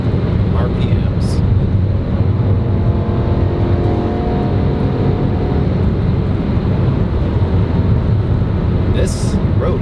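A BMW E92 M3 engine revving hard toward 7,500 RPM on an open road, a loud sustained roar with rising harmonic whine heard from inside the car, with a person talking over it.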